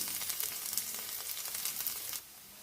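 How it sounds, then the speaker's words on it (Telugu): Crushed garlic sizzles hard in hot ghee with curry leaves for a South Indian tempering, a loud, bright crackling hiss that runs steadily and then drops away abruptly near the end. "నా దగ్గర నెయ్యి ఉంది కాబట్టి నేను నెయ్యితో తాలింపు వేస్తున్నాను"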